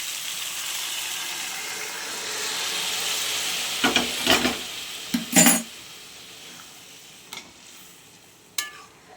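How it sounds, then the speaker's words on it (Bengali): Mung dal is added to fried fish head sizzling in a pan, a steady frying hiss interrupted by several sharp clanks and scrapes of a utensil against the pan. "আমার কষানো হয়ে গেছে, এবার আমি ডালটা দিয়ে দেবো।"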